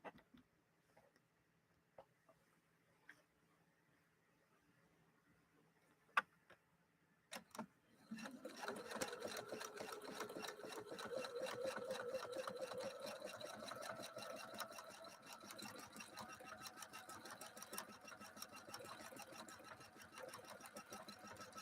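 A Husqvarna Viking embroidery machine with a Schmetz 7511 embroidery needle starts up after several faint clicks and then runs steadily, a dense, close mechanical whir with rapid needle ticking that continues to the end.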